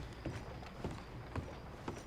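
Horse hooves clip-clop softly in a video game, a steady walking rhythm of faint, evenly spaced thuds over a low background hum.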